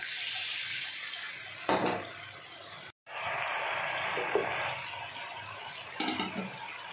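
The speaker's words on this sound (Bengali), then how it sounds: "এবার জল দিয়ে দেবো" Water poured into a pan of fish curry masala with cooked tomatoes and spice paste, a soft steady splashing stream with a brief break and a few light clinks, fairly quiet and close.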